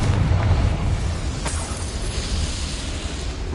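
A Confringo fire spell bursts in the Hogwarts Legacy video game: a loud, rumbling explosion with a sharp crack near the middle, then a dense roar that carries on to the end.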